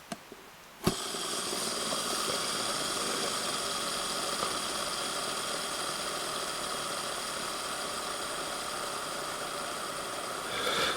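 An Abu 7500 CT C3 baitcasting reel spool spins freely on Rundre hybrid ceramic bearings, a steady, smooth whirring hum that starts abruptly and holds constant and close for about ten seconds.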